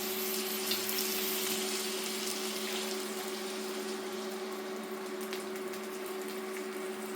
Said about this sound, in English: Now I will add the tomato and garlic sauce